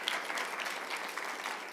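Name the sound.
audience round of applause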